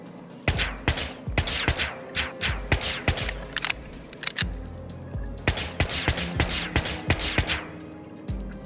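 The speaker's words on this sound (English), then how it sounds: "So she turns away and starts shooting, right?" Video-game gunfire as a woman opens fire in Whispers of a Machine: two bursts of sharp, loud shots in quick irregular succession, separated by a brief lull, with no talking.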